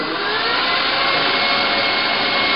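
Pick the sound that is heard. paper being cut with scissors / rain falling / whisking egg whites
whisking egg whites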